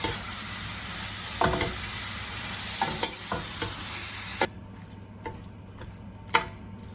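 Chopped tomatoes and salt stirred in a frying pan for a tomato cashew gravy curry, with a steady close sizzle and a few spoon scrapes and clicks against the pan. The frying gets quieter after about four seconds.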